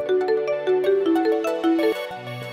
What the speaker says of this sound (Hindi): फिर एक दिन वो पल का इंतजार खत्म होता जब इशिका का फोन आता है।